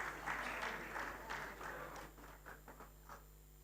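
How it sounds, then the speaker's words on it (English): Audience applause at an International Customs Day award ceremony, a soft, fairly quiet wash of clapping from a modest crowd that thins out and fades over a few seconds. "A round of applause for them once again."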